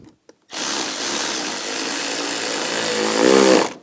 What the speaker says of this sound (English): And we'll tighten down the clamp and tighten this down.